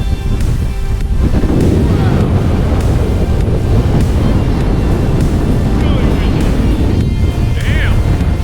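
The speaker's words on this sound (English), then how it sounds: "It is crazy windy up there, I gotta say." Strong wind roars across an exposed high mountain ridge on a traverse from Lenawee Peak to Grizzly Peak, a loud, continuous buffeting rush against the microphone that persists throughout.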